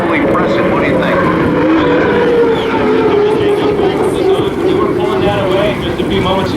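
Unlimited hydroplane racing boat U-1 Oh Boy! Oberto during Columbia Cup qualifying, its engine reportedly not sounding right, gives a loud, steady droning roar with a sustained tone throughout.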